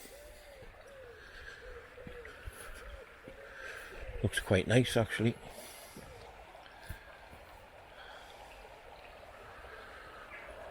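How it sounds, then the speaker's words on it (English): A river flows beside a roadside walking track, a soft steady water wash running under the whole stretch, with someone speaking briefly and a louder rustle near the middle. "And here's the river."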